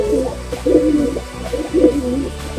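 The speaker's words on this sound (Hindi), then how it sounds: "कबूतर रखे देखो यहाँ पे अच्छे अच्छे कबूतर" Pigeons cooing in a loft, with repeated low, throaty coos rolling in close, steady bursts over a faint background hum.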